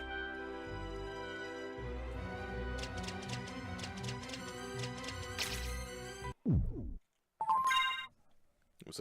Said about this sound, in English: Was that my phone going off?